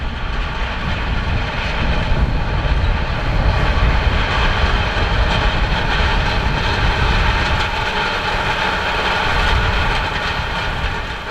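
A 1989 MB-Trac 1100 tractor on wide Terra-Tires pulls 12.3 m rolls across winter wheat, giving a steady, loud, low engine drone with a rumbling, clattering roll that holds throughout without talk.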